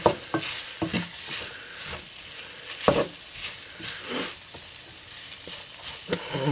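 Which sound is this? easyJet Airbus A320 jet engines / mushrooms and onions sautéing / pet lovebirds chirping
mushrooms and onions sautéing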